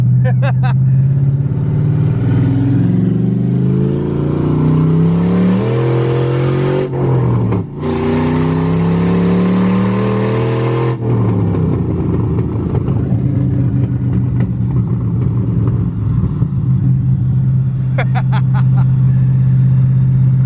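An LS-swapped Chevy Blazer drives and accelerates on the freeway, its engine droning loud and close from inside the cabin, pitch rising and falling through gear changes, with a voice talking over it.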